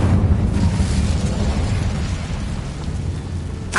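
Incendio fire spell blast in the video game Hogwarts Legacy, a loud, continuous whooshing roar of flame with a deep rumble that holds steady for several seconds and then ends with a brief crackle.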